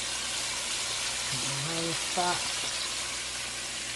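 Shrimp frying in hot grease, a steady broad sizzle running the whole time with brief voice sounds over it.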